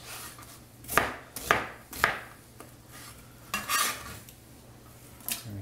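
Knife rough-chopping ingredients for slow cooker Boston baked beans on a board: several distinct, fairly close chops in an uneven rhythm with gaps, plus a faint background hum.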